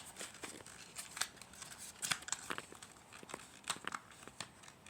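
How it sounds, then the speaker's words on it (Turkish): Brawl Stars card packs are torn open nearby, with irregular crinkling foil and sharp ripping bursts spread through the moment, fairly quiet with no speech. "şimdi benim paketlerimi açacağız"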